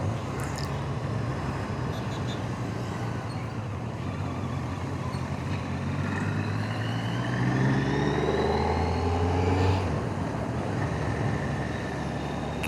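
A Kawasaki Z900 motorcycle ridden at night on rough roads, its engine droning steadily up close with rising and falling rev tones around the middle of the ride, under constant wind and road rumble.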